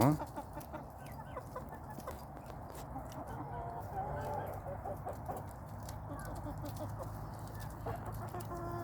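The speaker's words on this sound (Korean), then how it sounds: "지금 토종닭이 상대 많은 흑닭이에요 토종 흑닭이에요" Korean native black hens and a large rooster cluck and murmur nearby, with soft, irregular clucks over a steady farmyard hum, while someone talks throughout.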